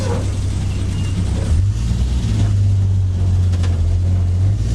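A 1951 Hudson Hornet race car drives on track with a steady, loud engine drone and a low pitch that steps up partway through, heard from inside with wind and road noise.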